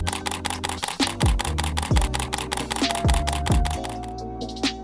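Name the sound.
camera shutter firing in burst mode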